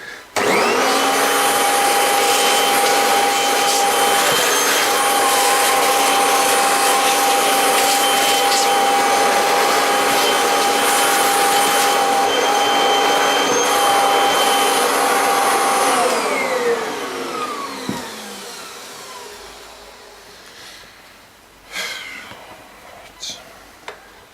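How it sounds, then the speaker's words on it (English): A vacuum cleaner sucks debris out of a filthy Kirby G6 vacuum, a loud, steady whining roar held close for about sixteen seconds before it winds down, followed by faint clicks and handling noises. "I'll just vac out what I can"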